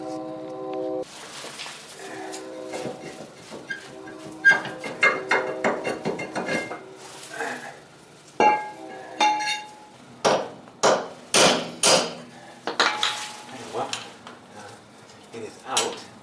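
Sharp metallic hammer strikes on a 2007 Honda Accord rear brake drum, irregular at first then a steady series of ringing blows near the end, close and loud.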